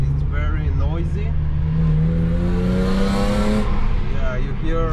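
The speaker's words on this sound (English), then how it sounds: "you hear the noise of the 6-cylinder" A BMW 320i E36 coupe's six-cylinder engine and exhaust drone from inside the car, rising in pitch as it pulls through a long gear under loud road noise, with a voice talking over it.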